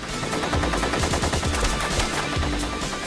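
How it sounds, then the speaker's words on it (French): Rapid bursts of gunfire on a film set during a zombie-shooting scene in a dark corridor, loud repeated cracks in quick succession, with no talk. "Céline flingue les zombies."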